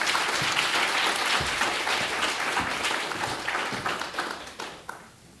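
An audience welcomes lecturer Professor Anne Lafont with a steady burst of applause at an art museum lecture, loud at first and then thinning and tapering toward the end with a few last scattered claps.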